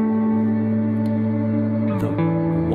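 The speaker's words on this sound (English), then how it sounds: "It's a really cool reverb I use for a guitar, and it has built-in pitch shifting" Electric guitar played through a Walrus Audio Descent reverb pedal with pitch shifting, a loud sustained shimmering wash of layered tones that shifts pitch near the end.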